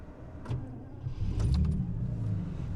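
A Jaguar XJ12 Daimler V12 saloon, an older car with rear-mounted fuel tanks, cranks and starts, its engine rising to a steady rumbling idle close by with no talking.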